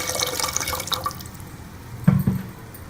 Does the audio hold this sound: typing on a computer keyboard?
no